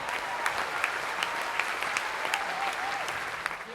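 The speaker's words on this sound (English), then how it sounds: "Start clapping and don't stop until next week." Spectators in a velodrome applaud during the 2012 UCI Juniors Track Cycling World Championships, a dense burst of clapping with sharp individual claps standing out and faint cheering mixed in throughout.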